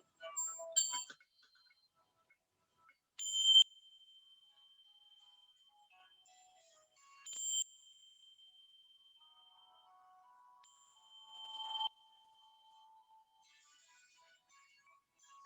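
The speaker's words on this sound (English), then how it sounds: "I'm going to ring some Tibetan bells" Tibetan bells struck four separate times in a quiet setting, each strike a clear metallic ring with a long, fading tone. No voices.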